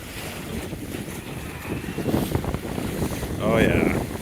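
A gust of wind filling the sails of a small John Welsford Navigator sailboat running on jib and mizzen, heard as a rising rush of wind over water and hull noise that swells to its loudest near the end.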